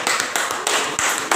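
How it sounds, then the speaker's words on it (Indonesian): Pupils in a Catholic religious studies class clap their hands in short bursts, loud and close, with brief breaks between the rounds. "Tepuk tangan. Tepuk tangan."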